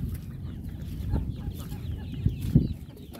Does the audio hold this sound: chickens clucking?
yes